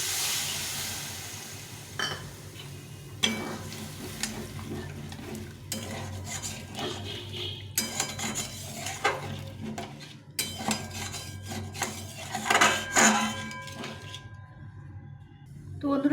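Egg curry cooking in a pan as water is added and the mix is stirred, with steady sizzling under repeated scraping and clinking of a utensil against the pan, close and busy throughout.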